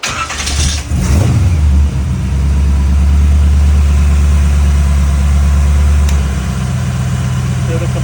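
A 1940 Ford engine cranks and fires up, then settles into a loud, steady idle with a low rumbling drone up close, and a voice speaks briefly over it.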